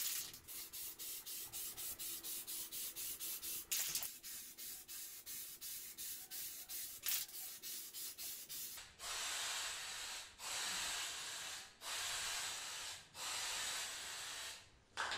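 A cheap 250 ml spray paint can hisses onto a PC case panel in a series of short bursts, with a faster pulsing run of bursts followed by several longer, louder sprays separated by brief pauses.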